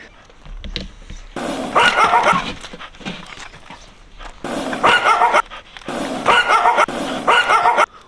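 A female dog barking in repeated loud bursts close by, alternating with brief quieter gaps, with no talk over it.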